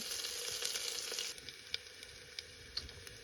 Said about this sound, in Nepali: प्याज चढाउँदैछु मैले